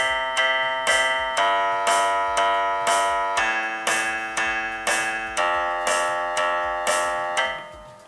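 A self-made song plays back with a steady, evenly pulsed beat under bright, chime-like sustained tones that ring and decay on each hit, changing chord partway through, with no talking.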